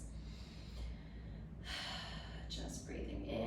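A person takes slow, audible breaths in and out during a relaxing bedtime yoga flow, with soft airy inhales and sighing exhales over a quiet, steady background.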